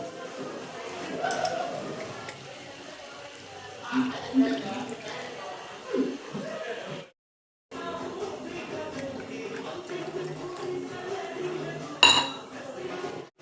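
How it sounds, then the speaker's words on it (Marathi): Water pours into masala in a pan while cooking egg curry, a soft splashing amid clinking utensils and pot sounds; someone talks over it, and a brief gap of silence interrupts the middle. "तर चला मी त्याच्यामध्ये आता पाणी ॲड करते"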